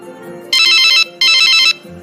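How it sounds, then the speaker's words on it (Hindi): A phone rings loudly in two electronic trilling bursts, separated by a short pause, close to the listener. "अरे ये तो भाभी का फोन है"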